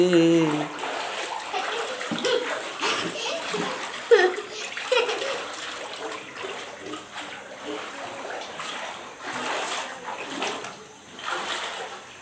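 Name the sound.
water splashing in flooded house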